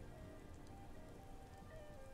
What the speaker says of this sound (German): Ich wünsche mir, dass der Regen aufhört.